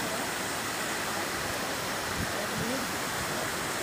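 Water rushing down a waterfall beside a hilly road, a constant loud roar close by, with a brief voice rising faintly near the end.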